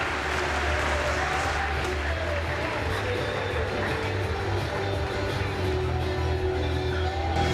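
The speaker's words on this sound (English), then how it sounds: "please do give a huge round of applause for all of the female and open male swimmers" Applause from spectators at a swim meet rolls on steadily throughout, a broad wash of clapping with a faint crowd murmur in a large echoing pool hall.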